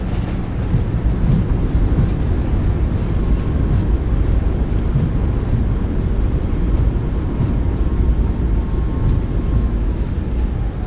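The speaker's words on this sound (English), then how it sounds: "Reversers are out." Thrust reversers on a Boeing 737 MAX 8 roar during landing in MSFS 2024, a loud, steady low rumble with broad wind-like noise holding evenly throughout.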